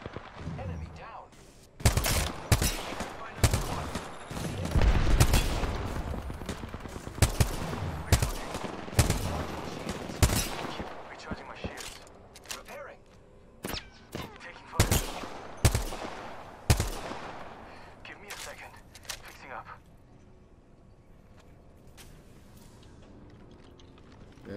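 Gunfire in the shooter game Apex Legends, played on PS4: rapid bursts and single shots keep crackling loud and near for most of the span, then thin out toward the end, with voices heard in places.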